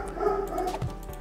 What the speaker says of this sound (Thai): น้องหมาเห่าอีกแล้วครับ